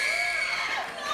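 A television talk show studio audience of women screams and cheers loudly in a brief, shrill burst of crowd noise.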